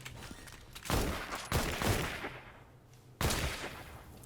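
Three heavy shotgun blasts boom in Fortnite, loud and close, each arriving abruptly and fading with a short rumbling tail. Gaps of about half a second to over a second separate them.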